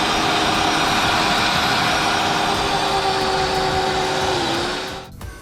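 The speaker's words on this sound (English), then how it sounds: "my machine that replaces the hoe takes the stage, because the soil must be loose." A garden tiller loosening soil for tomato planting runs at a loud, steady whine with a constant motor drone, close by and alone, then winds down and fades near the end.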